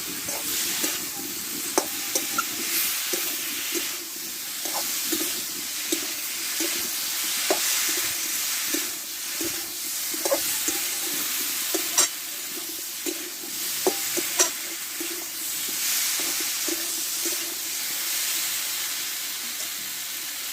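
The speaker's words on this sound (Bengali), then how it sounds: "এবার কষে রাখা এই সবজিগুলো ঢেলে দেবো। একসঙ্গে ভালোভাবে কষে নেব।" Vegetables, drumstick stems and taro among them, being stir-fried in a pan: a continuous close sizzle broken by repeated scraping and clinking strokes of a spatula, with no voices.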